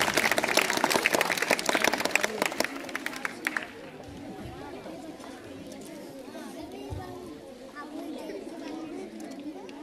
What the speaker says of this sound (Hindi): जोरदार तालियों के साथ उनका स्वागत करेंगे।